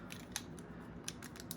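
A pair of scissors is picked up and handled at a desk, giving a few faint, close metallic clicks and snips over a quiet room hum.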